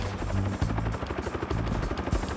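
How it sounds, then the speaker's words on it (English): A Bell UH-1 Huey helicopter flies close by, its rotor beating in a loud, rapid thumping rhythm over a heavy engine whine. "The Huey is, of all these helicopters, the greatest of all time."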